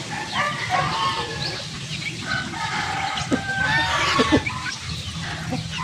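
Backyard chickens, a mother hen among growing chicks, clucking and calling in a busy overlapping chorus with a crow-like call, close and fairly steady throughout, no talk over it.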